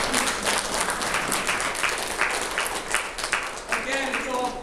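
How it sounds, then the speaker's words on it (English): A crowd at an evening reception breaks into a steady round of applause that carries on for several seconds, with a voice starting to speak as it tapers off. "give them a round of applause."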